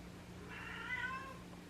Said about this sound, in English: once again you can hear my cats in the background